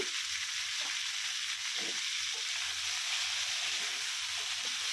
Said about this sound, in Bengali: হলুদ আর লবণ পরিমাণ মতো দিয়ে ভালো করে কষিয়ে নেব